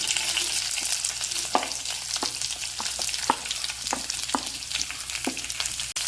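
Green chilli, ginger and curry leaves frying in a pan give a steady, close sizzle, broken by sharp crackles and pops at irregular intervals, with no talking.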